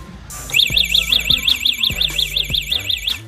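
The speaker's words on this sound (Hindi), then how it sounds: "ये स्कूटर आती है with theft alarm security system के साथ जो कुछ ज्यादा ही रिस्पॉन्सिव है और हवा के छूने पर भी शोर मचाता है।" Theft alarm on a Winner Sky KN DN-01 electric scooter blaring a loud, close warbling siren tone in steady repeating sweeps, with a few low thumps underneath and no talking.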